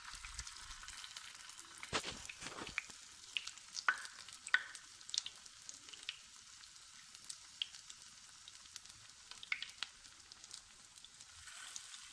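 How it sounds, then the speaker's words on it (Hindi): Semolina finger chips frying in hot oil, a steady low sizzle with scattered crackles and pops, faint and continuous with no voices. "बाकी भी इसी तरह फ्राई करते हैं।"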